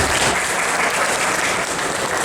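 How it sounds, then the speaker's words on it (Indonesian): Applause rises from the audience for the Minister of Creative Economy at the Malang Creative Center, dense and continuous throughout this short stretch. "Tepuk tangan Bapak Menteri Ekonomi Kreatif"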